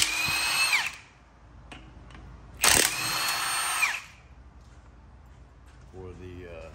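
Power tool loosening 16 mm bolts on the torque bar mount of a 2015 Jetta during front strut and lower control arm work: two loud bursts of whirring, each about a second long, with someone talking in between.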